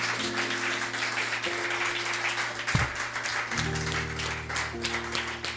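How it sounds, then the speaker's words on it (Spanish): A church congregation applauding during a service, steady mid-level clapping over a sustained organ or keyboard tone. "Den un aplauso al Señor,"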